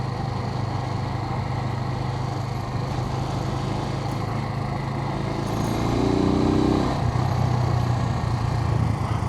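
A Suzuki TU250X motorcycle drones steadily while being ridden, its engine swelling louder for a few seconds partway through.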